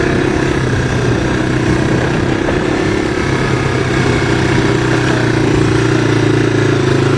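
A 1985 Honda ATC 250SX three-wheeler engine roars loudly and steadily while being ridden, a close, continuous mid-pitched drone with no talking over it.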